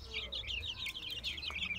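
Australorp chickens, including blue birds, clucking and chirping steadily and close by, a busy overlapping chorus of short calls with no one talking.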